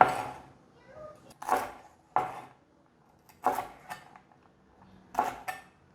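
Knife strokes cutting wild celery on a cutting board, several sharp separate clacks spaced irregularly against a quiet background, close and fairly loud.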